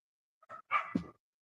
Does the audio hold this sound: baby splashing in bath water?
no